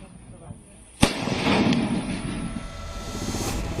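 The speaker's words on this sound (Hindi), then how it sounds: "वहां पटाखों के शोर से दहशत को दूर करने की कोशिश हो रही है" A firecracker bursts with a single sharp crack near the one-second mark, set off in a village in Bahraich to scare away man-eating wolves, followed by a loud crackling, rumbling tail and background noise.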